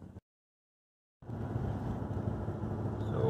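A car towing a trailer along a road at about 25 mph, a steady rolling drone of road and wind noise that starts after a brief silent gap and swells slightly at the end.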